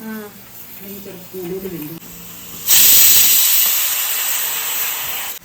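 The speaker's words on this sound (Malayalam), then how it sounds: "4 വിസിലായി. 4 വിസിലടിച്ചു, ഓഫ് ചെയ്യണം." Pressure cooker steaming Palakkad matta rice lets out a loud, sustained hissing whistle that bursts in abruptly and carries on alone after a couple of seconds of talking.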